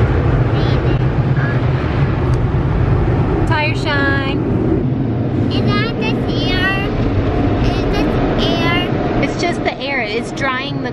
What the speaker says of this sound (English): It's drying the car.